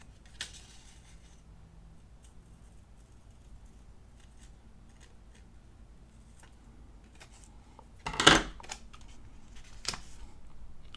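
Scissors cut a sticker out in a quiet room, with faint small snips and taps and one louder, sharp cut near the end.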